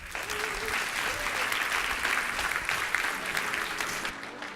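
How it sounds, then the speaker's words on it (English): Audience applause at a keynote of a public sector technology summit in Singapore, a steady, dense round of clapping from a large hall that holds evenly for several seconds before cutting off. "Can we have one more round of applause for all of our great speakers today?"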